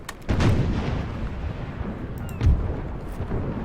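Ship cannons boom in a naval battle video game set in the North Sea, with two heavy blasts about two seconds apart followed by rumbling, crackling battle noise.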